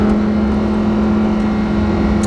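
A Lamborghini engine drones at a steady, loud pitch from inside the cabin, a sustained tonal hum with no clear rev spikes or audible shifts in this short stretch; no one speaks.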